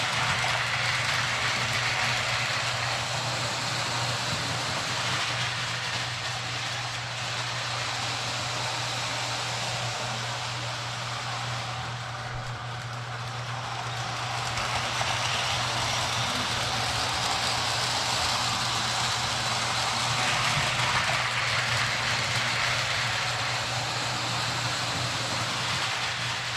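A steady low hum and a continuous rolling whir run without a break as model trains, including AA diesel engines, circle on track in a garage, with no talking.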